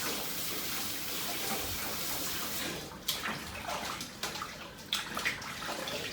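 Running water rinses a slab of pork belly during its third wash, a steady close gush with sloshing and splashing that turns more uneven in the second half.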